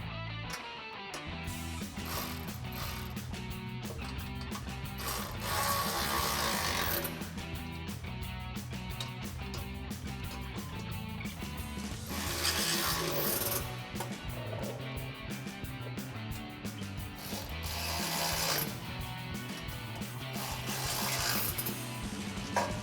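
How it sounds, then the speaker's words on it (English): Ratchet with an 18mm socket tightens bumper bolts on a Jeep Gladiator JT front bumper, producing repeated mechanical clicking and ratcheting strokes with metallic creaks, steady bursts over about twenty seconds, no speech. "we're going to use our 18mm socket to tighten them down"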